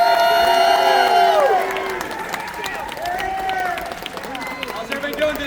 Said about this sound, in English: Can you give a big round of applause, get your energy up, for my friend Mike Curry from Wake Up Engine.